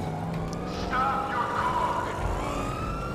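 Police siren wailing in Grand Theft Auto Online, rising and falling steadily behind game engine noise and other in-game sounds, with people talking over it throughout.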